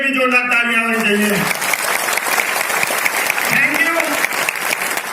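A crowd at a Safe Shop business meeting applauds loudly and continuously, while someone speaks over the clapping at the start and again briefly later.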